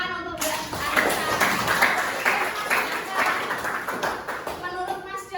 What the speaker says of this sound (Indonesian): Ayo tepuk tangan untuk Mbak Anissa.